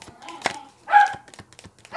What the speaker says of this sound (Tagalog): Maingay po yung aso namin.